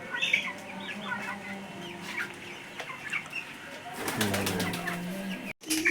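A handful of chickens on a small farm cluck and chatter nearby at a moderate level, with a brief clatter and a sudden short dropout near the end.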